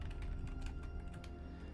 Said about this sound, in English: if my clicking keyboard is too loud, I apologize